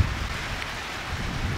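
Steady rain falling outdoors near a horse shelter, a dense even hiss of drops on surfaces, fairly loud and unbroken for the whole moment.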